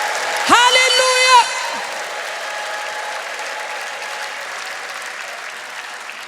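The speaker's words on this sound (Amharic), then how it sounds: "እልልታ፣ ጭብጨባ፣ ክብር።" A church congregation bursts into a high wavering ululation with clapping, then settles into sustained applause that fades to a softer, steady patter, with no talk over it.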